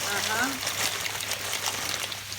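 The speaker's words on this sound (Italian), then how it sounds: "L'acqua bolle. Adesso ovviamente acqua salata e adesso mettiamo le nostre orecchiette." Salted water at a boil as orecchiette pasta is added, giving a bubbling, sloshing wash, moderately close, with a voice speaking over it.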